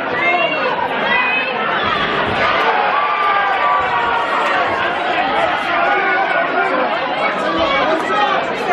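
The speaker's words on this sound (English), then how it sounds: "And we've got the crowd all the way down there on that side too." A dense indoor crowd at a boxing event in the Bournemouth International Centre fills the space with continuous loud chatter and overlapping voices, with occasional shouts rising out of the murmur.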